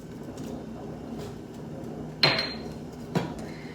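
A utensil knocks twice against a pot of simmering ginger as hibiscus is stirred in, two sharp clinks over a low background hum.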